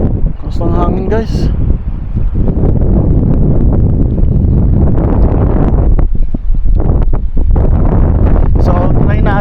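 Heavy gusts of wind pound the microphone at a riverside fishing spot, a continuous loud, low rumble with brief spoken bits at the start and near the end.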